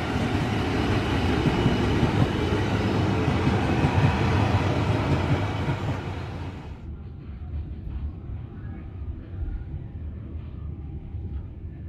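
A Tegal Bahari business-class train pulls away from Bekasi station, its loud, steady broadband rumble of wheels and carriages filling the first six seconds before dropping to a quieter, muffled cabin drone.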